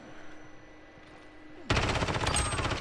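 Gunfire erupts in the video game Call of Duty Modern Warfare, a sudden loud burst of rapid automatic shots after a quiet stretch, close and dense.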